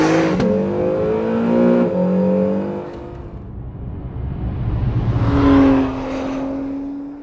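An Acura with Super Handling All-Wheel Drive accelerates hard, its engine revving up through rising pitch, dropping briefly at a gear change, then climbing again, loud and close throughout.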